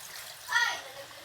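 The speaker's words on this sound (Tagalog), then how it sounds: "Lalagyan lang natin ng konting tubig," A short splash of pork-boiling water poured in while cooking kare-kare, a brief wet burst lasting about a third of a second over a quiet background.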